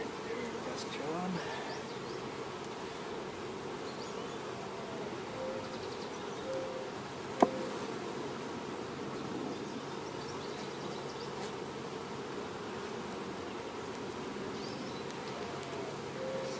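Honey bees hum steadily at an open, active hive, a dense continuous buzz close by with one brief sharp tick partway through.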